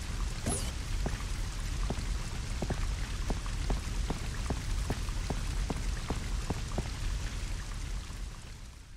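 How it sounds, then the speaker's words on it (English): Steady rain hisses throughout in Resident Evil Code Veronica X on Rockfort Island, with a regular run of light, evenly spaced drip or tap sounds layered over the constant downpour and no talking. "Just pop in here, get out of the rain."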